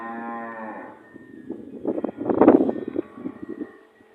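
A Friesian Cholistani cross cow at a dairy farm gives a long, low moo, followed by softer, broken lowing and shuffling close by, with no talk.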